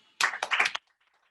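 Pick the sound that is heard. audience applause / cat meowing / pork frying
audience applause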